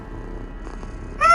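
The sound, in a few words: cat sound from mobile game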